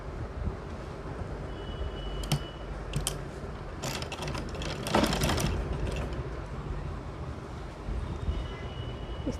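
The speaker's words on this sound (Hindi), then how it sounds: "मोड़ते हुए सिलाई कर लेंगे" A sewing machine works along a folded kurti hem in a continuous low mechanical hum, with scattered ticking and clacking spikes, close and fairly quiet.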